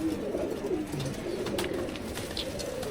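Soft cooing of pigeons on a rooftop loft in Bangladesh, low throaty coos repeating over a steady background murmur, fairly near and moderately quiet.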